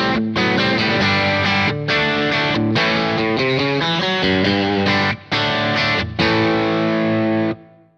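An electric guitar played through a Kemper Drive overdrive effect on a Kemper Profiler, set to neutral default settings, rings out in loud distorted chords and sustained notes with brief pauses between phrases.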